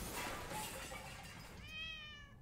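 A cat meows in a video game, one drawn-out wavering call rising at the end of a faint, noisy stretch of background hiss.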